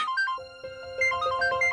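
A mobile phone rings with an incoming call, a bright electronic melody of repeating tones playing steadily and clearly, with no talking over it.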